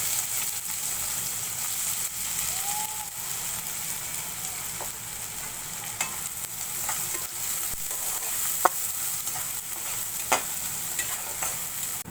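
Onions and green chillies fry in oil in a pan with fish-frying oil, giving a steady close sizzle across the whole stretch, broken by a few sharp clicks of stirring.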